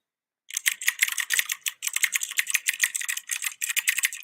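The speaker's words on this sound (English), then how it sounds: "Oh my God, I can't stand that typing she puts in." Fast, steady keyboard typing, close and crisp, continuous bursts of clicky keystrokes after a short silence, with no voices.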